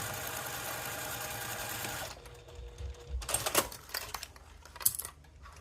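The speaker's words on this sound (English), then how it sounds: "You just sew all the way around." A sewing machine stitches a cork fabric pouch in one steady run for about two seconds, then stops, followed by soft handling noises, clicks and rustles.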